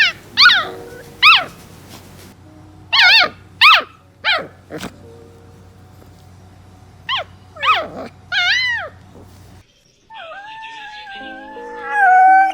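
A dog barks in short bursts with high, whiny yips and a howl-like vocalization, close and loud, followed by a sustained warbling cry.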